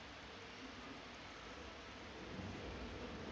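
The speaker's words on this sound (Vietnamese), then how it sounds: "Đang ở đây đang sấm rất là to" A heavy rainstorm hisses steadily with a deep rumble of thunder swelling beneath it, a continuous dense wash of sound with no talking.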